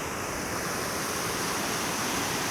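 Floodwater rushes steadily through a drainage and flood-mitigation structure in Sabah, a dense, continuous roar of churning water with no voices over it.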